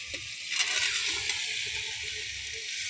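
Ivy gourd (dundul) goes into a pan of fried spice paste and oil and sizzles loudly. A sharp burst of sizzle marks the drop, then a steady hiss continues.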